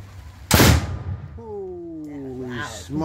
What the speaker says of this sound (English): We're gonna have a detonation shortly.